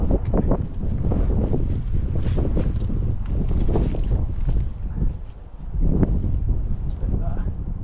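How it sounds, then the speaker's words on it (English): Strong wind buffeting a microphone on a riverbank during chub fishing, a constant loud rumbling roar with gusty swells throughout. "Trouble is the wind's picked up now as well, so it's even more of a pain."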